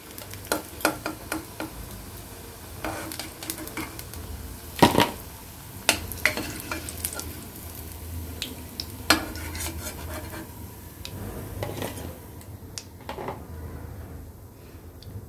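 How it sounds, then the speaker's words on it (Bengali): Lentil cakes (dhoka) frying in oil and being turned and lifted out of a kadai, heard as a faint steady sizzle broken by scattered scrapes and clinks of a spatula against the pan. "মোটামুটি উল্টে পাল্টে ভেজে নিলাম। এবার তুলে নিচ্ছি।"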